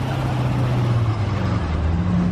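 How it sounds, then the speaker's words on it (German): A 1985 Toyota MR2 driving off at a classic car rally in St. Marienkirchen an der Polsenz, its engine a loud, close, steady hum with slowly shifting pitch, no talk. "mit einem Toyota MR2,"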